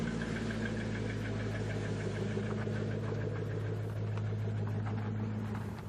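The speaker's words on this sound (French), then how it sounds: "Là, on est à bord d'un Wazuma GT." A Wazuma GT three-wheeler's engine drones steadily during a ride, a constant low, loud hum with a rough mechanical texture that continues without a break and without speech.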